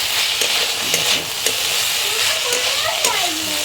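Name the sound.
stirring jackfruit seed curry in pan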